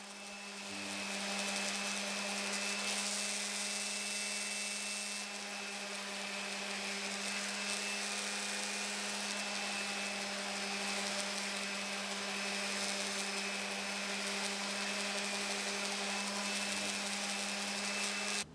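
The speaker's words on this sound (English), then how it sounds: "I've made a cradle from my random orbit sander that makes this much easier." Random orbit sander held in a shop-made cradle, rounding over the edges of a wooden cheese board, giving a steady, continuous close whir with a constant hum throughout, no voices.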